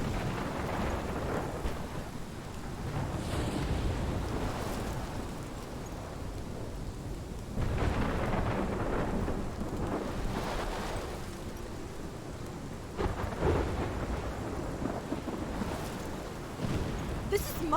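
A thunderstorm in the video game Life is Strange: steady heavy rain hisses throughout while deep thunder rolls in and swells several times, loud and enveloping.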